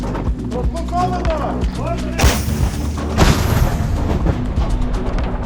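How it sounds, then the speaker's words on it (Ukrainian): Two heavy artillery booms land about a second apart, loud and broad, at the front near Chasiv Yar, Ukraine, while people talk nearby before and after. "Постріл!"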